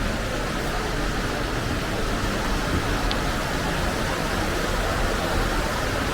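A river flows past an open-air hot spring bath at Higashiyama Onsen in Fukushima, a steady, unbroken rush of water that fills the space evenly without pause.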